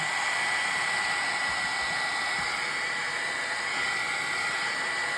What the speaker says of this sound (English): it creates more of a mottled pattern by using the heat gun like this, straight at it